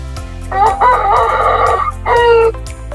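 Several gamecock breeder roosters crow in loud, overlapping calls, two long bursts in close succession with a brief gap between them, heard near and clear.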